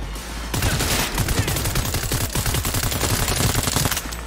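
Rapid automatic gunfire from the video game Cyberpunk 2077 rattles in a loud, dense burst lasting several seconds, close and sustained.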